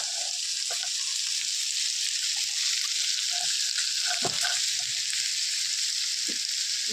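Loud, steady sizzle of food frying in hot oil, with a few soft clinks and stirring taps now and then; no talking.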